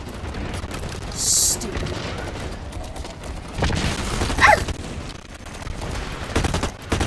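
Blacklight Retribution gunfire rattles in rapid bursts and scattered shots under someone talking, loud and close, with game effects layered in.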